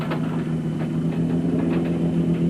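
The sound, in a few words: Ford Ranger race truck engine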